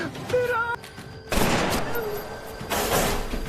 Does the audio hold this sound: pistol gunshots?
yes